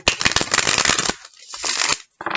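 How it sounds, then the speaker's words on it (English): Rapid riffling and flapping of tarot cards being shuffled, a dense papery burst that pauses and resumes, close and fairly loud. "one last shuffle."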